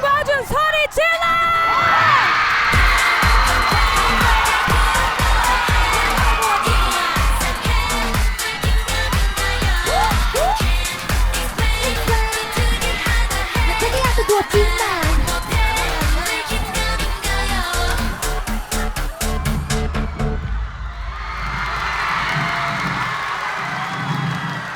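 A classroom crowd of Jingwan Middle School students cheers, whoops and shouts loudly and continuously for about twenty seconds, close and energetic, with voices calling out over the din before it eases off near the end.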